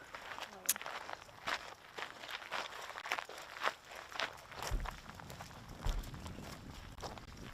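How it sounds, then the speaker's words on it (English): Footsteps crunch across the ground of an outdoor disc golf course at a professional tournament round, a steady series of light, fairly close steps in otherwise quiet surroundings. "You can just hear those little footsteps."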